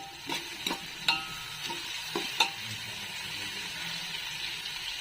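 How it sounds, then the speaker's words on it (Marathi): Vegetables sautéing with turmeric for veg pulao, a low steady sizzle broken by several sharp spatula scrapes and taps against the pan, close and fairly quiet. "चांगलं परतून घ्यायचं. थोडीशी हळद टाकायची आपल्याला."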